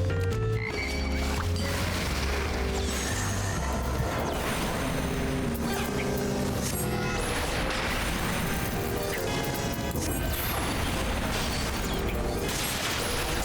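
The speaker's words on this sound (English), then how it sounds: "I'm very happy that we have a frog with us." A frog companion in the Final Fantasy XIV dungeon croaks over dense, loud game music and clattering effects, the croaks rising now and then through the steady mix.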